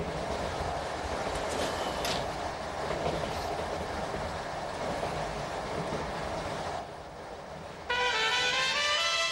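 A train in motion gives a continuous heavy rumble and rattle inside the carriage, then shifts near the end into a higher, ringing wheel squeal.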